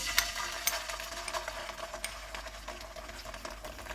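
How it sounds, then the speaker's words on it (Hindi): Garlic chili sauce frying in hot oil in a pan on a low flame gives a quiet, steady sizzle broken by small crackles and pops, close and alone without speech. "ऑयल गर्म हो गया, चूल्हे को मैंने कम रखा हुआ है। इसमें गार्लिक चिली सॉस डालेंगे"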